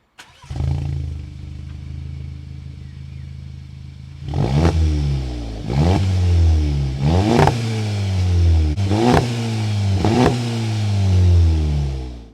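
A Mk7 VW Golf GTI engine cranks and settles into a deep idle, then revs hard five times in repeated rising bursts, loud and close with a throaty exhaust.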